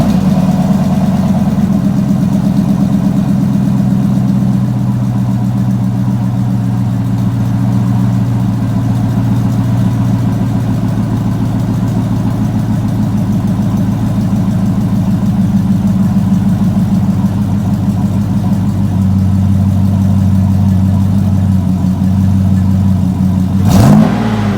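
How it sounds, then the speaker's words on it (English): Chevrolet Trailblazer SS truck engine running loud and steady at idle close by, with a couple of rises in revs and a brief clunk right at the end. "I'm gonna fire the truck up, let y'all hear it"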